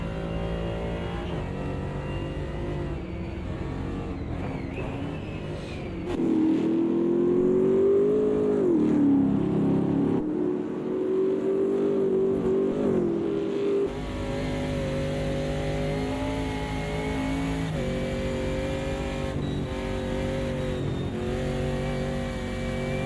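A Can-Am race car engine in a sim racing game at Bathurst revs steadily and shifts through gears, its pitch climbing, dipping and rising again, loud and close with no talking.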